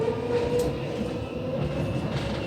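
A Gautrain passenger train in South Africa rides along with a steady, even rumble and hum, heard from inside the carriage with a faint high whine.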